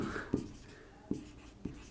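Writing on a board during a class 8 geometry lesson on quadrilaterals: three sharp taps and short strokes spaced about a second apart, close and fairly clear with no voice over them.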